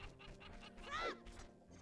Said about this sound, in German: Na komm, wo ist das Huhn denn hin?